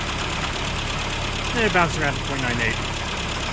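A classic Mini engine fitted with an AC Dodd carburettor idles steadily at just over 1,000 rpm, a low continuous hum running throughout while someone talks over it.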